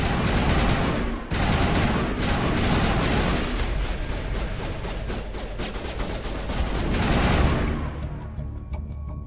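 Rapid gunfire crackles through a firefight in the video game Mass Effect, overlapping bursts and booms filling the scene loudly before thinning out near the end.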